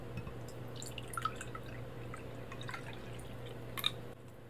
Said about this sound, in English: let's get to pouring. I'm gonna do it over the mic, too, so you can hear the sounds.